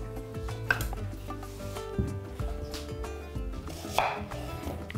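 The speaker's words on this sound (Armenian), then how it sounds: "Կվերցնեմ 2 գլուխ սոխ, մանր կտրատում և տապակում ենք։" Two onions being finely chopped on a board with a knife and then fried, giving irregular close cutting knocks and clatter of pans and utensils, with sharper impacts near the start and end and no voices.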